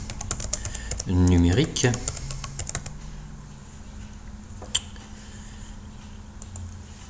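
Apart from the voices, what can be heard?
typing a title on a computer keyboard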